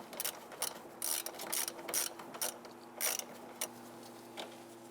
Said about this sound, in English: we just switched over to a 1/4-inch ratchet